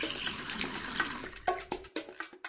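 Running water in a Dora the Explorer online pony-grooming game, a brief splashing trickle with small drips and bubbly pops, steady and fairly quiet, with no voices over it.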